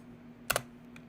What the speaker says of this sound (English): I'm typing loud so y'all can hear this